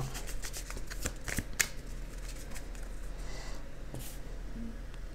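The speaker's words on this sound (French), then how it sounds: "on va mélanger le paquet" A deck of playing cards riffled and shuffled at a tabletop board game session, a run of crisp fluttering card snaps with a few sharper slaps, close and clear with no talk.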